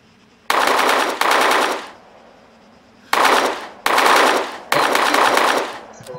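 Automatic fire from an AK-107 rifle in the video game Arma 3: a long burst, then a second, a pause, and three more loud sustained bursts, each cutting off sharply.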